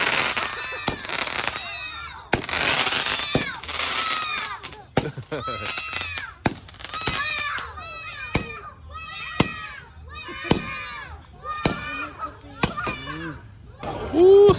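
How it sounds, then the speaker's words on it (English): Whistling fireworks go off on New Year's Eve, with repeated shrill rising and falling whistles and sharp cracks following one another over several seconds, loud and nearby, while people talk in between. "They sound like the little whistle from the fireworks."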